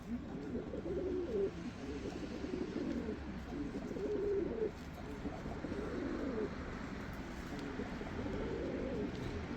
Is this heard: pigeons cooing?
yes